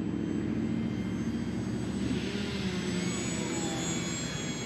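Radio-controlled bush plane flying at half throttle or less, a steady droning motor whine holding level throughout, moderately loud and unbroken, with no talk.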